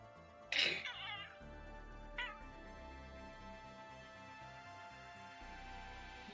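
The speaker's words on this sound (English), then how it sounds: "It is incredibly important that the internet be able to hear your cute meows." A domestic cat gives one loud, close meow followed by a second shorter, fainter meow about a second and a half later, over a quiet indoor background hum.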